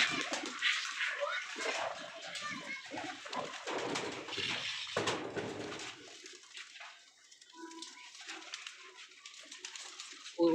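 Two pigeons in their home coop give soft cooing amid rustling and fluttering, close and moderately loud, while someone talks over them.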